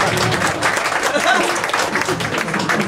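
An audience at a stand-up comedy show claps in a steady, dense burst of applause from a full room, with some voices mixed in over it.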